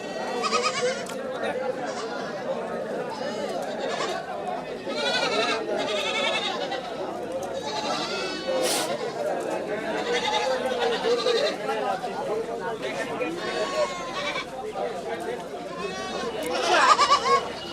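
Goats, both castrated males and females of the local breed, bleat repeatedly at a crowded Eid livestock market, the calls rising over steady talk and crowd chatter close by.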